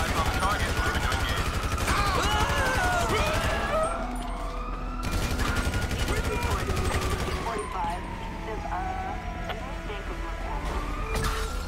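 Rapid gunfire crackles in GTA 5 amid a chaotic five-star police chase, mixed with wailing sirens and dense game noise, while someone talks over the action.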